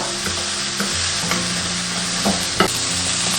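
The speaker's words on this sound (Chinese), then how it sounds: "锅中倒食用油，接着下入配料炒香， 一定要把泡姜跟这些豇豆的香味全部炒出来。" Pickled ginger and long beans stir-fried in hot oil in a wok, a steady loud sizzle with occasional scraping clinks of the spatula against the pan, no voices.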